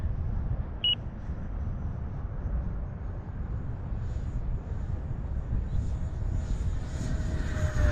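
FMS F-35 Lightning II 64mm electric ducted-fan RC jet coming in to land on grass, a steady whooshing fan whine heard outdoors at moderate distance, with a brief beep early on and light wind noise.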